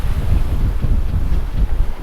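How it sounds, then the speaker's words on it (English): Strong wind gusting over 20 knots buffets a sailboat crossing the Irish Sea, a steady loud low rumble of wind across the microphone with surging swells, no voices. "The winds are gusting now over 20 knots"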